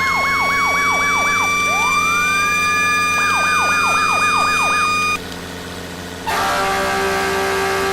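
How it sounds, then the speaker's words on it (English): Emergency vehicle sirens in the game FS:911 cycle through patterns: a rapid yelp, a slow rising wail, then a fast yelp again, loud and close over a steady engine drone, with a brief change of tone near the end and no talk. "I think these are the sirens I want to go with"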